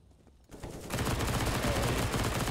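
Sustained SMG gunfire in Counter-Strike on the Inferno map, a quiet lead-in giving way at half a second to loud, rapid continuous automatic fire that holds steady to the end.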